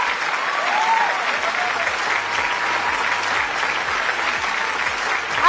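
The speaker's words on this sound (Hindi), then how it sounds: "लेकिन मैं तालियां बजवाना चाहूंगी अपने हस्बैंड के लिए।" An audience applauds steadily at a stage event, with continuous dense clapping filling the whole stretch and a faint voice briefly audible over it.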